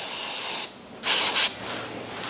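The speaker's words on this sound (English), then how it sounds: "I usually give everything a quick squirt with brake cleaner and blow it dry once again." Brake cleaner sprayed from an aerosol can onto parts of a John Deere diesel injection pump during reassembly: a loud, close hiss lasting over half a second, a pause, then two more quick bursts and a fainter trailing spray.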